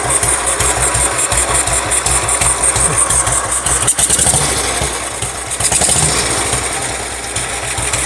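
A 1948 BSA M20 500cc single-cylinder motorcycle thumps at close range with a rapid, regular beat, revving briefly in short bursts before settling back to a lumpy idle.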